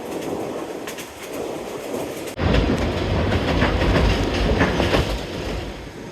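A narrow-gauge train in Bulgaria rolls along the rails with rhythmic clacking and rumbling that suddenly grows louder and closer partway through, with faint squeals over the steady clatter.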